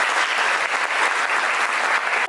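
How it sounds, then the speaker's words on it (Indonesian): Students at a school seminar applaud together, a short burst of dense, even clapping that stays loud throughout. "Tepuk tangan dulu dong."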